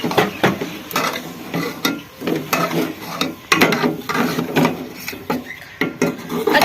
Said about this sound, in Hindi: अब जी इसमें पालक ऐड करती है और अब इसे अच्छी तरह मिक्स कर लें